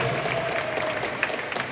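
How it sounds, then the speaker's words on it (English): Applause from a congregation at a church celebration honoring missionaries, a steady wash of clapping from many hands filling the room, moderately loud with scattered sharper claps near the end. "Applause for him."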